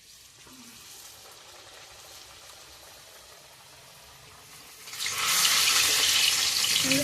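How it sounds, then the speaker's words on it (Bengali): Luchi, puffed Bengali flatbread, is dropped into hot oil and deep-fries with a loud, dense broadband sizzle that swells suddenly about five seconds in, following a quieter stretch of low crackle. "এখন লুচিগুলো ভেজে নেবো। তেল গরম হয়ে গেছে, লুচিগুলো ছেড়ে দিই"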